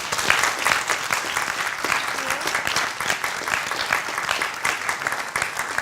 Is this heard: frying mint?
no